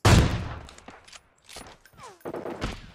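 Gunfire at a car in the shooter game PUBG Mobile, a few sharp close shots and short bursts spaced irregularly, separated by quieter gaps with faint background game noise.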